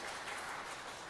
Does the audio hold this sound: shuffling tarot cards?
no